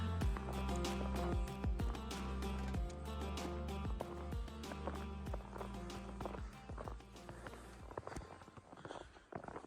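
Footsteps crunch steadily through snow, close by and rhythmic, over a layer of music playing in the background.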